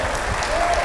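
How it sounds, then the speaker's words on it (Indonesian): A church congregation gives a short burst of loud, dense cheering and clapping during a worship service in Indonesia, a steady wall of applause with no gaps. "Berikan sorak-sorai buat Tuhan Yesus. Yang meriah, lebih meriah lagi."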